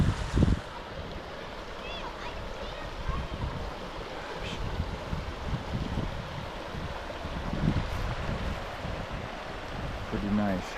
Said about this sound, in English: So this is after the two big streams came together, and the big stream got bigger.